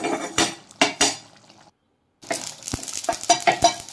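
Mustard and poppy seeds dry-roasting in a pan, heard as sharp metallic clinks and scrapes of a spatula against the pan in short bursts, a brief silent pause, then more rattling stirs.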